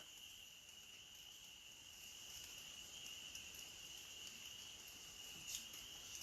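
Crickets and other insects chirring at night in Maine, a continuous high, even trill that stays faint and distant, with no voices.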